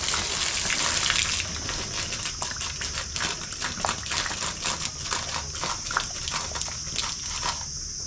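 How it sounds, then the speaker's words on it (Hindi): Water pours out of two containers side by side in a simple science demonstration, a splashing gush that starts loud and then thins into an uneven trickle with intermittent drips and splashes near the end. "अब देखो अगर मैं इन पानी को गिराऊंगा तो सबसे पहले किसका पानी खत्म होगा"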